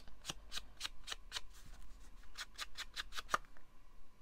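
Ink applicator rubbed along the edges of a paper card, a run of quick, close, dry scraping strokes in a steady rhythm with a short pause midway, quiet and alone.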